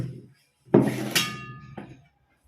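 A glass is set down on a hard surface at breakfast time, giving two short clinks: one solid knock followed by a ringing chime, then a lighter tap that fades quickly.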